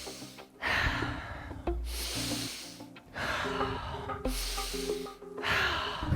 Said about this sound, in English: Keep on breathing at your pace.